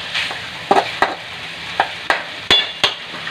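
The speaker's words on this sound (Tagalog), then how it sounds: "Yan, nagigisa na ako dyan." Garlic, onion, potato and saba banana sauté in a pan with a low sizzle, broken by sharp scrapes and clacks of a spoon stirring every half second or so, close up with no talk.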